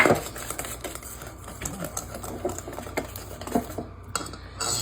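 A spoon scrapes and clinks against a bowl while mixing custard pie filling, irregular light taps and scrapes spread across the clip at close range, with no talking.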